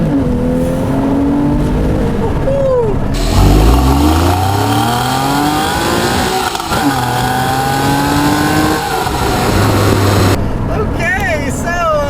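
A 2013 Porsche 911 Carrera's 3.4-litre flat-six engine roars and accelerates with a manual gearbox on a back road, pitch climbing through several gear pulls, with a burst of speech cutting in near the end.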